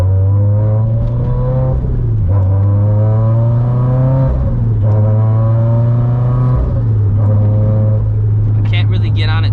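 A turbocharged Toyota GT86 with a new clutch still being broken in revs and accelerates up through the gears in several strong pulls, its loud, steady engine drone rising in pitch and dropping at each shift.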